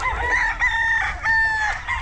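A rooster crows in a backyard farm in San Agustin, Ibaan, Batangas, giving one full drawn-out call with a second crow starting near its end. It sounds loud and close, with no talk over it.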